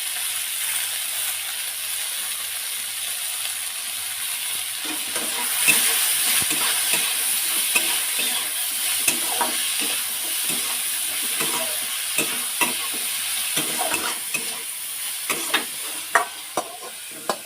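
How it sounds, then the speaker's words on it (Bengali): Food frying lightly in a pan, a steady sizzle with irregular stirring scrapes and clicks that grow more frequent partway through, close and alone without talk. "একটু হালকা করে ভেজে নেব।"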